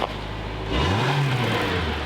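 A flood-damaged car engine fires up and revs loudly, its low rumble swelling and rising in pitch after a brief steady idle, then holding a strong roar close by.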